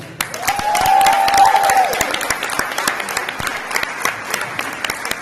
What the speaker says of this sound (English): So round of applause to the alumni.